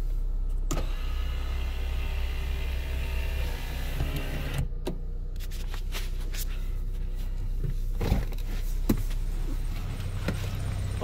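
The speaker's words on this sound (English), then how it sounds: "Roll up the windows." Power windows rolling up on a 2007 Mitsubishi Eclipse, a close steady electric motor whine with a low hum that runs for several seconds, then stops with clicks and small knocks inside the car.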